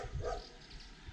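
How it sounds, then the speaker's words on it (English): A dog gives a brief, faint bark outdoors in a Slovak village near Poprad after rain, under a low background rumble. "then, of course, we have dogs."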